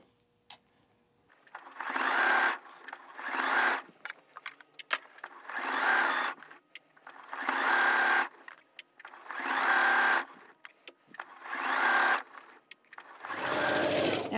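A sewing machine stitches Cuddle plush fabric for a pillow case, running in about seven steady bursts of a few seconds each with short pauses between them, close and clear with no talking.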